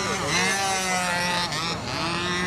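A small engine on a Windy U Master 791 model runs steadily, with a rough, crackling detonation note through its muffler and a few dips in pitch and level, close and loud.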